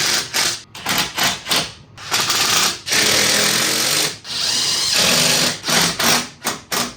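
A power driver fastens self-tapping screws into aftermarket trailing arms on a Turbo R. It whirs close and loud in short choppy bursts, with two longer sustained runs in the middle.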